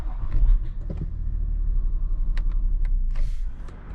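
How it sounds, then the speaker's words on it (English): A Range Rover or Land Rover, 2016 or older, settles into a steady low idle rumble after a few short clicks and thumps at the start, heard close up with no talking. "And now you can start the vehicle"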